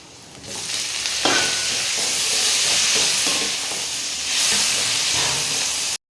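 Onions and green chillies sautéing in a pan for a kola urundai kuzhambu: a loud, continuous close sizzle with steady hiss and occasional stirring scrapes throughout.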